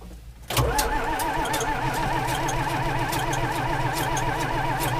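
A John Deere 4230 tractor's diesel engine cranks briefly and then catches, settling into a steady, loud, close-up running rumble with a regular pulsing beat.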